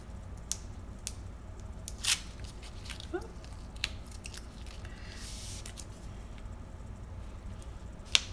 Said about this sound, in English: I think those are actually children's scissors that I have there